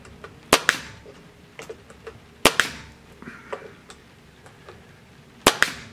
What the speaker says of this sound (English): So I can steady one corner and then fire a couple of brads in.